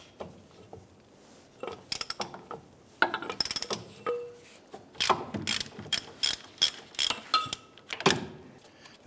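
Ratchet wrench loosening bolts on the rear wheel bearing and hub assembly of a 2009-2015 Honda Pilot, a series of close, sharp clicking bursts with pauses between them.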